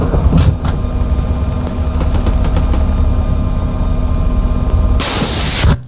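Helicopter engine in a video game, a loud steady droning rumble with rotor whir throughout, ending in a sudden burst of hissing noise near the end.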